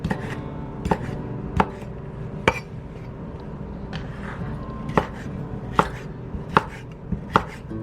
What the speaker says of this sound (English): So I'm just going to chop this up into about 1/2 inch or so pieces